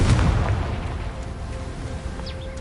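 A Confringo fire spell bursts in Hogwarts Legacy, a loud low boom at the start that rumbles and fades into a lingering ambient tail.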